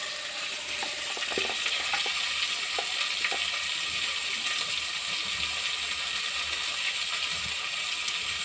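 Onions, green chilies and curry leaves sizzle in an oily pan while spinach masala rice is made: a steady, close, hissing fry with a few light clicks of stirring near the start, with no voices.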